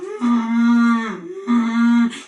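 A storyteller's voice imitates a cow mooing, giving two long, loud, drawn-out moos close up with a short breath between them.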